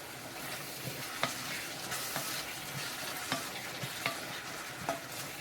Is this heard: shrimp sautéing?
yes